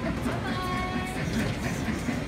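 A small ride-on mall train at Shin Kong Mitsukoshi rolls along with a steady low rumble and faint whistle-like tones, a voice mixed in near the microphone.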